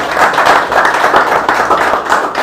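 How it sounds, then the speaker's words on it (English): Applause from a studio audience on a televised Mr. Universe Nigeria show, a thick steady wash of many hands clapping, loud and unbroken for the whole stretch with no talk over it. "A round of applause for yourself."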